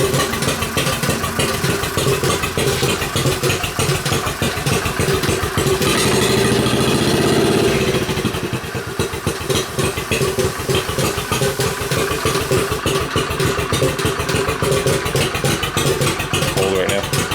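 Trike engine idling close by with a steady, lumpy chugging rhythm that swells briefly in the middle, then settles back to an even putter.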